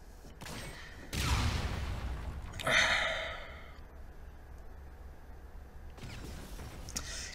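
Shotgun blasts in a Call of Duty match, a couple of sharp booming bursts with rattling decay followed by quieter stretches of ambient game noise.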